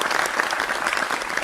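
Audience applause fills a studio as guests are welcomed onto a Hindi television debate show, a steady dense burst of clapping with faint crowd noise.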